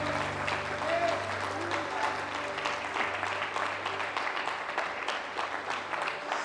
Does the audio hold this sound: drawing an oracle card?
no